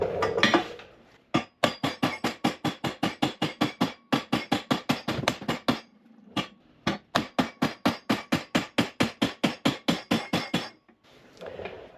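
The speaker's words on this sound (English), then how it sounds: "we're just gonna hammer it flat" Steady, rapid hammer blows ring out on copper being hammered flat, sharp and close, in long runs with a couple of brief pauses between them.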